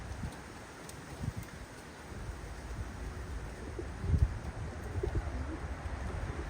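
Racing pigeons coo softly in a loft, low repeated throaty calls at a faint distance over a quiet hissing background, with a few louder soft thumps of movement near the end.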